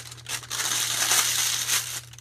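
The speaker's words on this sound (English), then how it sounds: "hard crinkly bags." Stiff plastic piping bags crinkling and crackling up close as they are handled for whipped soap making, a dense continuous rustle with a few sharper bursts, over a low steady hum.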